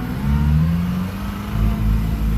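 A 75-year-old car pulls away in first gear, its engine droning low and rising in pitch as it accelerates, loud and close from inside the car.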